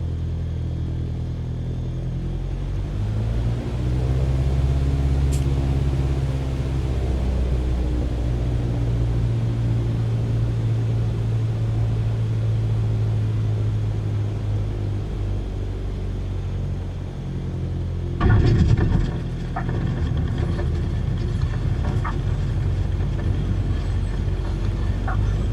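A Cessna 180 engine in MSFS 2024 drones steadily on a backcountry landing approach, a low continuous rumble that shifts slightly in pitch, with a brief thump late on.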